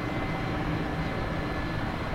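Helicopter lifting off in hover close to the ground, a steady, loud rotor and engine drone holding constant throughout with no other sounds.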